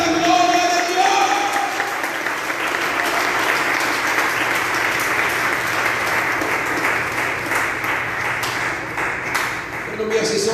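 A church congregation gives loud, sustained applause during a Spanish-language service, a dense wash of many hands clapping that continues steadily throughout, with voices mixed in.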